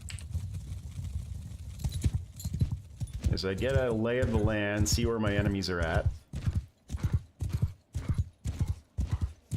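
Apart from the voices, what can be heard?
horses galloping in a video game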